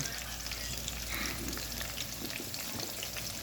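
Ginger garlic paste, green chillies and curry leaves fry in oil for a black chickpea curry, producing a faint, steady hiss and crackle with no pauses.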